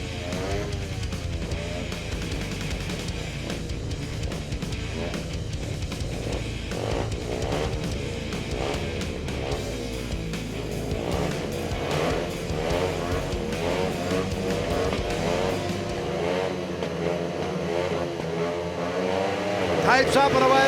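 Speedway motorcycles roar off the start of a race heat, a dense continuous engine drone rising and swirling throughout, with a commentator talking over it.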